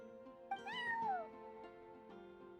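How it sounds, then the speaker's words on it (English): A cat, a neighbor's pet sitting on a windowsill, gives a single clear rising-and-falling meow, close and fairly loud, with a couple of softer sounds after it. "I'm sorry, that's my neighbor's cat."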